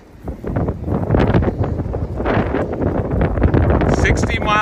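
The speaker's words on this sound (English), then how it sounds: "60 mile an hour gusts of wind right now" Strong 60 mph wind gusts roar and buffet the microphone in loud surges at a farm with compost-heated greenhouses, with voices faintly mixed into the noise.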